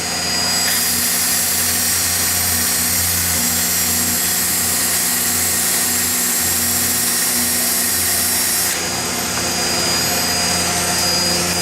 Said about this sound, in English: So this is our Scotch-Brite wheel